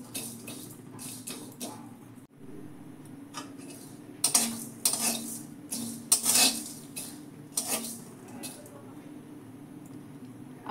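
Whole spices (cumin, fennel, star anise, mace, cardamom, cinnamon, cloves) dry-roasted in a pan, giving scattered clinks and scraping taps of a utensil against metal over a low steady hiss.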